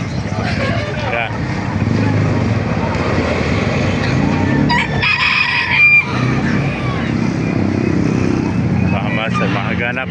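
Roosters and hens crow and cluck amid a busy outdoor animal market in Baliuag, Philippines, with people talking and a motorcycle engine passing nearby.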